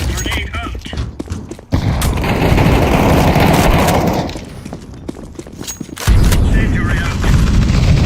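Video game combat with a burst of loud gunfire, then a broad, sustained blast-like roar lasting a couple of seconds, easing off before more heavy firing resumes; a flashbang grenade is in play.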